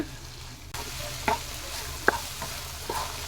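Sliced okra (vendakkai) stir-fries in a pan over a medium flame, a soft, steady sizzle punctuated by about four distinct spatula scrapes, close and without any talking.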